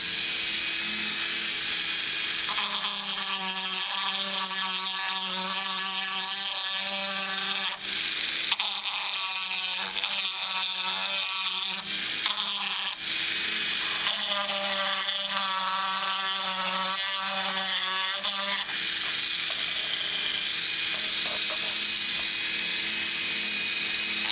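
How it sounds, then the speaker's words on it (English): A Dremel rotary tool rounds off the edge of a throttle body for a Dodge, Jeep and Chrysler 4.7 engine, giving a steady, close, high-pitched whine that shifts slightly as the load changes. "I'm just going to round the edge of this off using my Dremel tool."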